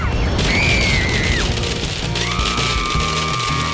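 A cartoon chocolate bomb explodes with a heavy crashing boom, followed by sweeping whistles and tumbling debris-like rattles over dense background music.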